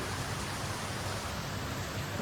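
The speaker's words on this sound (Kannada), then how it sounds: "ಎಷ್ಟು ಜೋರಾಗಿ ಮಳೆ ಬರ್ತೈತೆ ನೋಡಿ" Heavy rain pours steadily at a resort, making a dense, loud, continuous hiss with no breaks.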